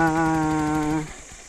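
A warmed-up motorcycle engine idles with a steady, loud, even hum for about a second before cutting off, leaving quieter background noise.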